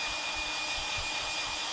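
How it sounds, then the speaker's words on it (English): A hair dryer blows steadily to dry ink on a husky drawing, a constant airy whoosh with a low motor hum, continuous and fairly close throughout. "somewhere I've got my hairdryer, which should have been ready"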